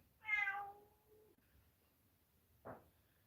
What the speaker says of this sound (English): Sure you can hear the cat. It's right outside the door.